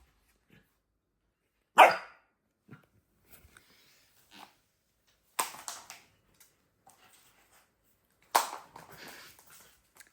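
A dog lets out three sharp, separate barks spread a few seconds apart indoors during house packing, with short low growls and quiet gaps between them and no talking.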